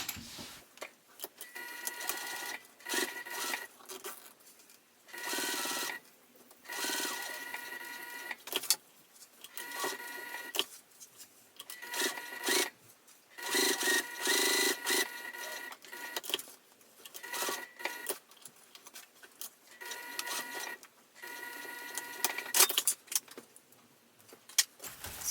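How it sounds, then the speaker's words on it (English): A sewing machine stitches a zipper onto a crossbody bag about an eighth of an inch from a folded edge, running in short repeated bursts of rapid mechanical whirring separated by brief pauses, with no talking. "I'll be sewing about 1/8 of an inch away from that folded edge"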